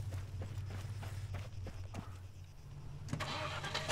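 A car engine in the video game Arma 3 Altis Life, set up as a road block, holds a steady low rumble throughout, with light tapping clicks on top and a brighter swell near the end.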